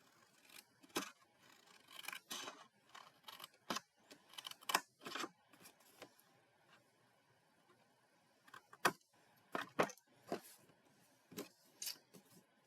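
Card stock is trimmed for a Halloween card with scissors or a trimmer, giving a series of short, crisp snips and clicks in irregular bursts, close and fairly quiet, with pauses between cuts.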